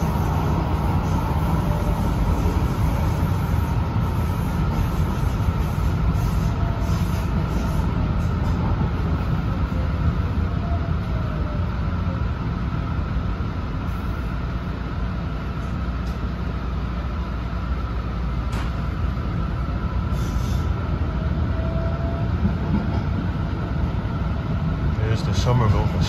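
Boston Green Line Extension light rail train riding alongside the Lowell Line toward Medford/Tufts, heard from inside as a steady, loud rumble of wheels and motors continuing without break.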